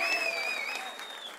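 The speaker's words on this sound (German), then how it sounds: "macht mal Applaus für das erste Battle, bitte" A Dortmund freestyle rap battle crowd applauds steadily after the first battle, with a few whistles or whoops riding over the clapping, moderately loud throughout.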